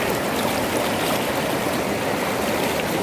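A river on a road trip through Uttarakhand rushes steadily past, a loud, even roar of flowing water close at hand, with no voices.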